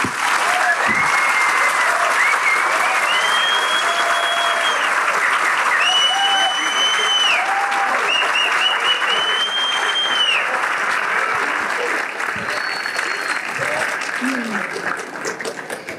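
An audience at an inaugural architecture lecture applauds in a sustained, dense burst of clapping that stays loud and even for most of the stretch. Some whistling and cheering rise above it before the clapping thins slightly toward the end.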